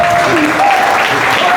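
A church congregation applauds steadily and loudly throughout, a dense wash of clapping with a voice faintly audible beneath it.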